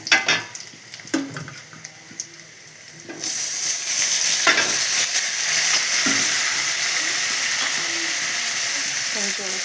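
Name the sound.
tomatoes added to frying onions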